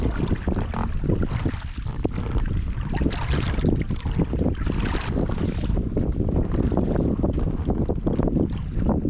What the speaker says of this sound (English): The wind picking up definitely makes maneuvering this little rowboat a bit more of a challenge.